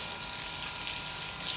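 Water gushes and splashes steadily while a motorbike is washed at home, a continuous loud hiss of flowing water with no voices.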